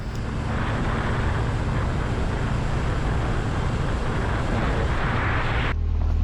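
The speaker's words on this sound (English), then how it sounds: "load up the old Duramax and head up the mountain with the snowcat" Heavy broadband engine rumble of a snowcat together with an old Duramax truck climbing a mountain, a steady loud drone with low tonal hum that cuts off abruptly near the end.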